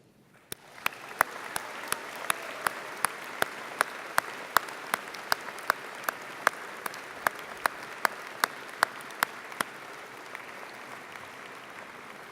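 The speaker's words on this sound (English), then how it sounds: "join me in a round of applause to thank those who have supported you in your academic journey" Audience applause at an engineering faculty convocation ceremony, a soft crowd clapping that swells in after a quiet start and holds steady, punctuated by regular sharp, distinct claps standing out close by.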